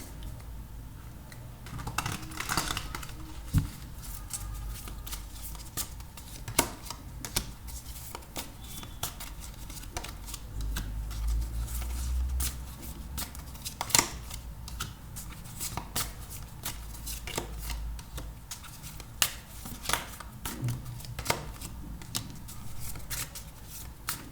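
Oracle cards being shuffled by hand, giving a continuous close riffling and flicking with scattered sharper snaps over a steady background hiss, with no talking.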